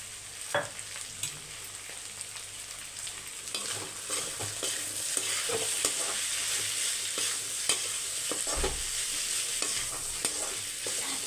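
Potatoes roast in a pan on low heat with chili powder and salt, a gentle steady sizzle broken by repeated spatula scrapes and taps, fairly quiet and without voices.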